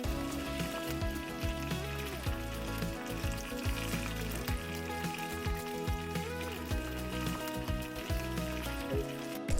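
Chicken sautéing in a pan with ground coriander and cumin, a continuous close sizzle and crackle with occasional stirring scrapes, village-style cooking, with no talking.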